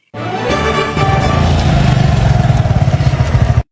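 A motorcycle engine starts up and runs close by, its loud chugging idle pulsing in a fast steady rhythm before cutting off abruptly.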